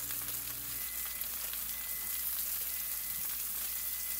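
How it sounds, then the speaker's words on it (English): Sliced onions and peppers sauté in a good hot skillet, giving off a soft, even hiss with a light crackle throughout, steady and a little distant, with no speech. "sauteing all my onions and peppers and whatnot"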